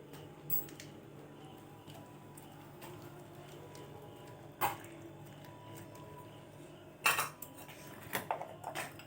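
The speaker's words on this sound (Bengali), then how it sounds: "টক দই আমি 2 চামচ মতো দিয়ে দেবো।" A spoon scoops tart yogurt into ground dalia in a bowl, giving a few faint, sparse clinks and soft scrapes against the dish in an otherwise quiet kitchen.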